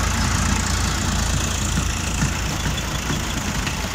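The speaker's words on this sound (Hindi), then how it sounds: "ये फार्म ट्रैक ट्रैक्टर है जी, सुपर मैक्स। और दोस्तों ये सब अपना सॉयल लोडर पे चल रहा है" A Farmtrac Super Max tractor runs a soil loader with a steady, loud, dense engine drone and constant mechanical churning, close by with no pauses.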